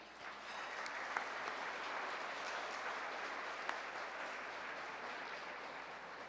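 A sustained round of applause from a City Club audience thanking its sponsors, dense steady clapping at an even level throughout with no talk over it.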